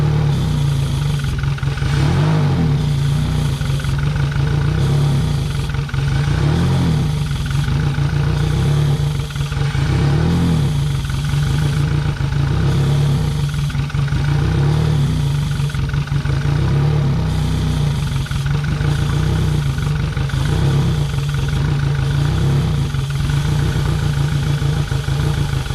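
A Yamaha F115 outboard engine runs loudly and close by while being fogged, its steady mid-pitched drone interrupted by uneven sputtering and dips in its rhythm, with no talking.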